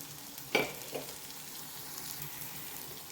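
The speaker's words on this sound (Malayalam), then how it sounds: "തക്കാളിയെല്ലാം നല്ലോണം ഫ്രൈ ആയിട്ട് വന്നിട്ടുണ്ട്." Tomatoes frying in a pan for a fish curry with coconut milk and pepper, a steady soft sizzle with one sharper clatter early on and a smaller bump after, close and without voices.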